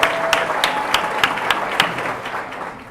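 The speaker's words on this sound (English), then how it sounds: "let's give them a round of applause." An audience at a college scholarship event gives a round of applause, steady dense clapping with a few sharp individual claps standing out, fairly close and full, tapering slightly toward the end.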